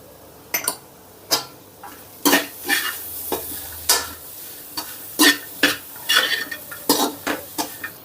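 Grated fresh coconut fries in a pan over a low flame, with a faint sizzle under frequent sharp scrapes and clinks of a spoon stirring against the pan.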